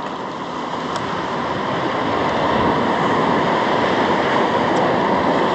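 Steady broadband wash of ocean surf at a fishing spot, continuous and fairly loud, rising slightly and holding as waves roll in, with wind noise on the microphone and no voices.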